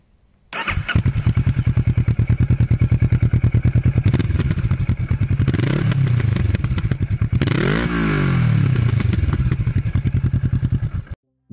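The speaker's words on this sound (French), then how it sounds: "On se retrouve du coup tout de suite pour écouter le bruit de la moto." A Kawasaki Vulcan S motorcycle with an ER6-derived 61-horsepower engine and an Arrow Exos exhaust starts up close by, idles with a deep, throbbing pulse, and is revved twice before shutting off.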